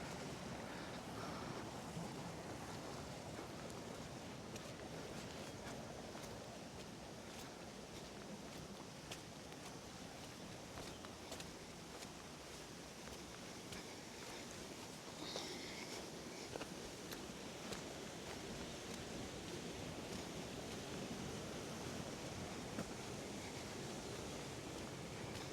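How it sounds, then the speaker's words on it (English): A river flowing in a misty hill valley, a soft, constant rushing wash of water that holds evenly throughout, with some wind noise mixed in. "I'm going to follow this river now."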